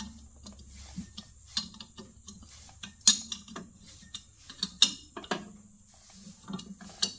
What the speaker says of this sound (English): we want to tighten this back down.